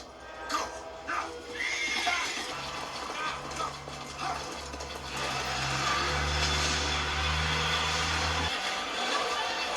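A horse neighs loudly near the start in a Wheel of Time episode, with further whinnies, hoof clatter and a sustained low musical drone beneath people talking.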